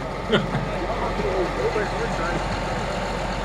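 A 2010 295-horsepower tractor engine idling with a steady low rumble close by, while someone talks over it.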